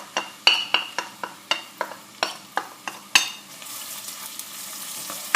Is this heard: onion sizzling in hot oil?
yes